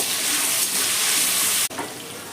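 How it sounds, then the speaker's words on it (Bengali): Salted, turmeric-coated potato pieces fry in oil until browned, giving a loud continuous sizzle that briefly cuts out near the end, then resumes slightly quieter. "আলুটাকে আমি লাল লাল করে ভেজে নেব"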